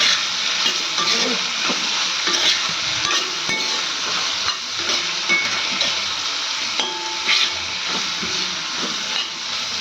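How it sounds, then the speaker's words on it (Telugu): Dondakaya (ivy gourd) fry sizzles steadily in a cast iron pan while a spatula stirs and scrapes through it, with a continuous hiss and intermittent clinks over about ten seconds, loud and close. "సాల్ట్ వేసుకున్న తర్వాత మళ్ళీ ఒకసారి కలబెట్టుకోవాలి."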